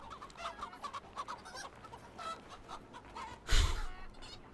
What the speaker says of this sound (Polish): kury atakują, jak się jedną zatłucze